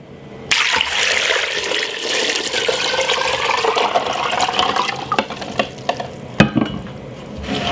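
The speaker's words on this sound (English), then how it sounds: "fill it with some water." Tap water runs steadily into a pot holding eggs, a continuous splashing rush after a sudden start, with a few sharp clinks and knocks near the end.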